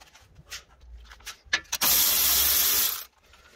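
A ratchet wrench works a 10 mm ABS sensor bolt on a 2014 Toyota Venza during a wheel bearing job, giving a few scattered clicks and then a steady, close whirring ratchet spin of about a second.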